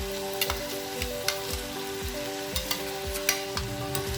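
A spoon stirs a pumpkin stir-fry with ground coconut paste in a pan, making repeated scraping strokes over a steady sizzle, close and fairly loud with no speech.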